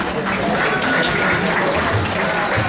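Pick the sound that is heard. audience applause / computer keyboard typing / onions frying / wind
audience applause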